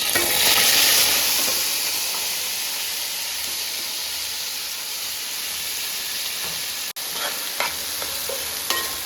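Chopped onions, green chilies and tomatoes frying together for fish biryani, a loud hissing sizzle with a steamy burst at the start, then a steadier crackle with occasional scraping stirs near the end.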